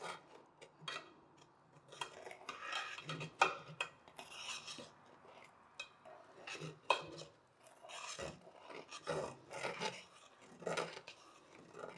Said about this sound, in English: So right now you're just stirring it all up.